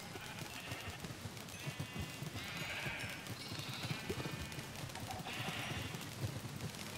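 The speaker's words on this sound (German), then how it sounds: "Und die Schafe wollen auch noch ein letztes Mal fressen" Sheep in the Minecraft video game bleat a few times over a steady busy background of game noise, the bleats spaced out and moderately loud, with no talking.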